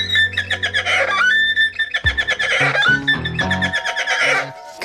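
A performer voices a horse neighing by imitation, probably on a bowed string instrument: a loud, close whinny of wavering, sliding high tones, broken by a sharp drop and then rising again, with no talking.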